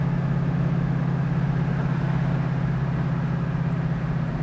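A 1968 Ford Mustang cruises steadily at 50 mph, its engine holding a low, even drone under constant road and wind noise from inside the car, with no change in pace throughout.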